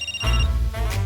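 A phone ringtone rings briefly in two loud, close bursts with a low tonal buzz, lasting about a second, alone with no talking.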